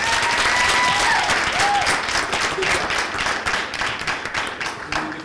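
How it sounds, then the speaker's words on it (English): A city commission meeting audience applauds a cheerleading team with a loud, dense round of clapping that starts at full strength and gradually thins and fades toward the end. "let's give the cheerleaders elite a round of applause"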